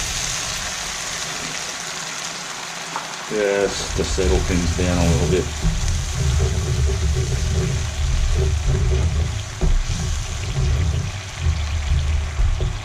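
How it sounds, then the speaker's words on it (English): Water is poured into a hot pan of Chicken 65 sauce, giving a sudden splashing sizzle partway through that settles into a steady bubbling simmer while a person talks over it. "Now I'm going to add a little bit of water."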